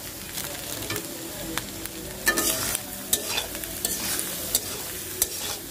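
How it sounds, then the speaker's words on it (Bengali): Egg and chilies stir-fried in a hot pan, with a steady sizzle broken by repeated sharp scrapes and clicks of a spatula stirring against the pan, close and without talk. "ডিম দিয়ে মরিচ দিয়ে একটু ভালোভাবে নেড়ে নেড়ে ভাজতে হবে"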